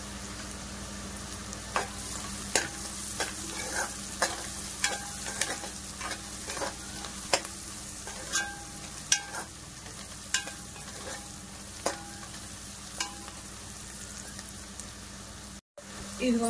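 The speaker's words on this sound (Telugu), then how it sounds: "ఇప్పుడు ఉల్లిపాయ మగ్గిపోయింది కదా, మనం అల్లం వెల్లుల్లి పేస్ట్ వేసుకున్నాం" Onions with ginger garlic paste fry in a pan for a goat head curry, a steady sizzle punctuated by regular spoon scrapes and taps, with a brief cut near the end.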